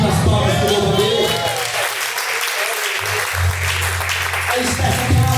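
A church congregation claps steadily in praise during a live worship service, loud continuous applause filling the room alongside music and a low sustained tone.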